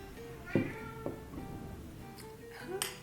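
A cat meows a few times close by, short and plaintive, with soft background chatter and room noise around it.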